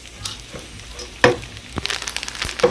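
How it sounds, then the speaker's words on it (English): Jollof rice being stirred in a pot, with a spoon scraping and knocking against the pot in irregular strokes over a soft sizzle, close and fairly loud. "I've been doing this now, stirring for almost 8 minutes."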